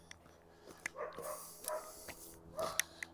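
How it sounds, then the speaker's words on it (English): Several dogs bark outdoors at a distance on a neighborhood street in Regina in December, short scattered barks and yips in uneven bursts over steady background hum, fairly faint. "Possibly just barking at each other."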